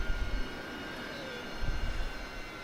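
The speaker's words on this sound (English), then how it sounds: "Love taxiing past the Harrier with my canopy raised. It's got such a distinct engine sound." A Harrier jet with its Pegasus engine taxis past in a flight video game, a steady low engine roar and whine with a faint high tone, heard from a cockpit with the canopy raised.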